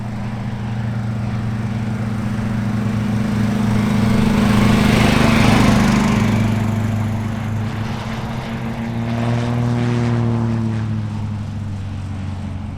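Light propeller airplanes arriving at Oshkosh drone overhead, the engine hum swelling and fading twice as aircraft pass at moderate distance.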